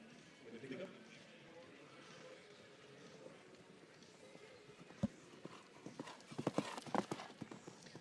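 Horse hooves at a show jumping Grand Prix, a young Belgian warmblood moving across the arena, with soft steady clip-clop turning into sharper, quicker thuds, fairly distant under ambient crowd and arena noise.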